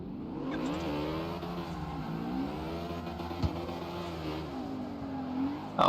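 A Corvette C6 in a drifting race game revs steadily near the listener, its engine pitch rising and falling in long sweeps, with a brief knock partway through and a thump at the very end.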